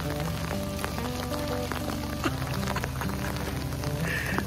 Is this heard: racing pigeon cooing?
no